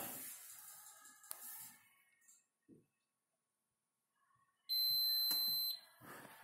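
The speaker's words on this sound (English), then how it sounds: "Wait for the beep." After some quiet clinks and rustling, a single high electronic beep from a Hotpoint dishwasher sounds for about a second, clear and close, followed by soft handling noises.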